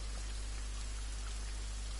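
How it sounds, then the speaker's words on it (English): Heavy rain drumming steadily on surfaces, a dense, loud hiss with a low rumble beneath, constant and unbroken with no voices. "That rain is so loud."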